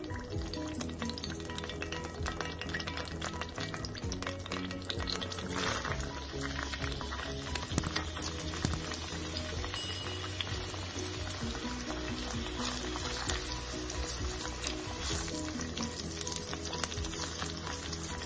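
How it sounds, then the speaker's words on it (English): Onions frying in melted coconut oil in a pan for an egg stew, giving a steady, dense sizzle throughout with faint stirring and liquid bubbling underneath, no talking. "the coconut oil is melting, so I'm going to put in my onions"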